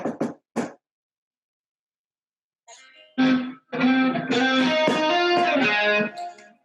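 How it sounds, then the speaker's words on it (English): An electric guitar run through a chorus effect pedal, heard after a couple of short plucked notes and a pause. Sustained chords ring out loud and shimmering, alone with no talk. "I'll throw on that chorus now."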